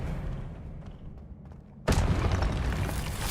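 An Expelliarmus spell cast in the video game Hogwarts Legacy lands as a sudden, loud booming burst after a quieter stretch, then leaves a dense, sustained rush of noise.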